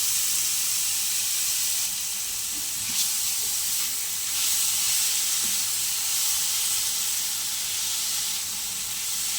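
Grated green mango fried in a little oil with panch phoron for a chutney gives a steady close sizzle and hiss that runs on evenly without talk.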